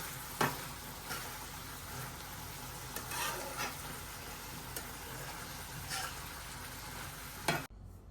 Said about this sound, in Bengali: এখন মাছটা সুন্দরভাবে নাড়াচাড়াটা মিশাই দেই